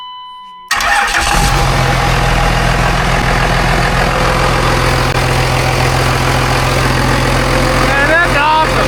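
After a moment of near silence, a Cummins diesel engine swapped into a Volkswagen bus bursts into life and runs at a loud, steady, clattering idle for the rest of the clip.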